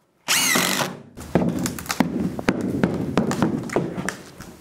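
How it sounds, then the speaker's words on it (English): A power drill drives extra screws into a wooden pallet holding a crate, one loud whining burst followed by a series of sharp knocks and thumps of wood and metal nearby, with no talk. "I'm just screwing some extra screws into the pallet so that this crate doesn't want to slide when I try to pull this machine off"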